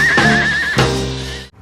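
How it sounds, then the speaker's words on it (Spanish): A horse neighs loudly in two rising, quavering whinnies as a sampled sound in a hip-hop track, taken from a soul song, ending abruptly. "donde aparece un relincho de caballo"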